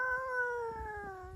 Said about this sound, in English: I got a house cat. It's a black house cat.